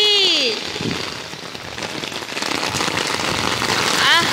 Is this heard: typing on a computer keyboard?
no